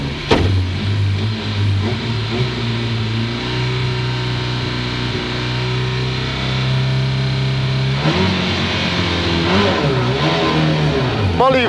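A Lada 2107 rally car engine revs hard and climbs through the gears on the Bükkszentkereszt rally stage, loud and close from inside the car, with a co-driver calling pace notes over the engine roar.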